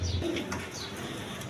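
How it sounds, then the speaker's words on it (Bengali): Black German Beauty pigeons, a pair kept for sale, give soft low cooing murmurs close by, a brief rolling coo near the start over steady room noise. "এইখানে এক পেয়ার বিউটি কবুতর আছে, ব্ল্যাক জার্মান বিউটি কবুতর বলে"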